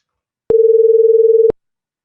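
Two synthesized tones at 440 Hz and 460 Hz play together as a single loud, pure hum that pulses ten times per second, lasting about one second with sharp onset and cutoff.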